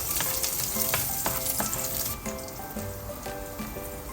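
Garlic sizzles steadily in a hot pan for a Filipino home-cooked dish, a continuous close crackle with a few sharper spatters and no voices.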